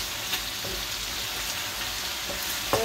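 Sliced bitter gourd fries in a pan with a steady, close, hissing sizzle, broken by a few faint clicks of stirring, with no talking.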